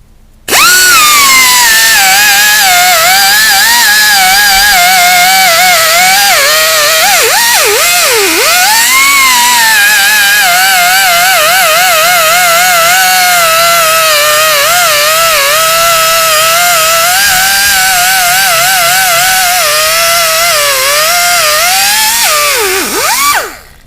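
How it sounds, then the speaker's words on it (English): A power sanding tool strips loose paint from the metal of a Sub-Zero refrigerator during rust repair, a loud continuous whine running steadily for over twenty seconds with slight pitch wobbles as pressure shifts. "we're just going to use this sanding tool to take off the loose paint here"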